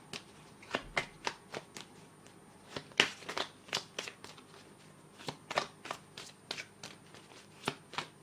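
Playing cards riffled and shuffled, then a card drawn from the deck during a French tarot-style reading: a run of sharp, close snapping card flicks with short pauses between bursts, no talking.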